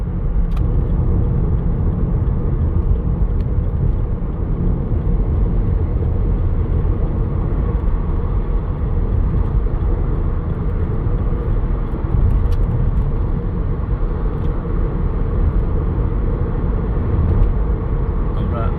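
A car moves from a small side road onto a large six-lane main highway, a steady, loud engine and road rumble running continuously throughout with no clear breaks.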